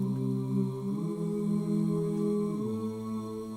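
Low-mid a cappella voices sustain a stacked chord in a vocal mix, the held tones shifting to new pitches about a second in and again near the end, steady and alone without talk.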